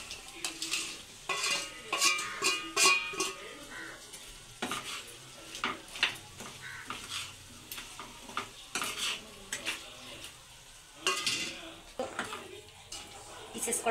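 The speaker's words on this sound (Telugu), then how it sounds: "ముందుగా ఫ్రై చేసి పెట్టుకున్న పీస్ను కూడా ఇందులో వేసేసుకుందాం." Fried chicken pieces stirred into a pan of cashew chicken curry, giving repeated scraping clatters of a spoon against the pan over a soft sizzle, close and moderately loud, in irregular bursts throughout.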